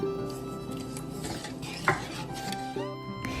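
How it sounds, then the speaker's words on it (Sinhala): A low-oil Sri Lankan chili curry simmers and bubbles in a pot for homemade kottu, with a steady wet sizzle, stirring scrapes and one sharp clink of a spoon against the pot. "දැන් මගේ මේ මිරිස් හොදියක හොඳට නටනවා"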